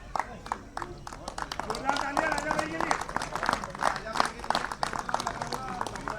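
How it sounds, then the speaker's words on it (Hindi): An audience at a cricket premier league auction event claps to welcome guests onto the stage, steady scattered clapping that runs the whole time under someone speaking over a loudspeaker. "ताली बजाओ।"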